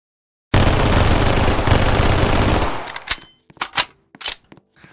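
A fully automatic infinite-ammo gun in a Roblox Halo game fires a loud, dense sustained burst for about two seconds, then trails off into several separate sharp shots and echoing clicks.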